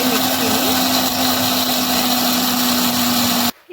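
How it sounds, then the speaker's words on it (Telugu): Mixer grinder blending garlic, tomato, mustard seeds, cumin and onion into a fine paste, a loud steady close whir with a constant motor hum that cuts off abruptly near the end. "వెల్లుల్లి, టొమాటో, ఆవాలు, జీలకర్ర, ఆనియన్ మిక్సీ చేసుకొని పెట్టుకోవాలన్నమాట"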